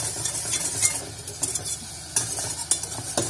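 Homemade toffee from baked condensed milk being stirred in a pan, with steady scraping and soft bubbling, sharp clinks of the utensil against the pan now and then, close and fairly loud.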